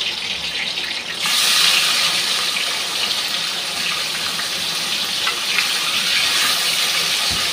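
Small chapila fish added to hot oil, setting off a sudden loud, close hiss that settles into a steady, dense sizzle of frying.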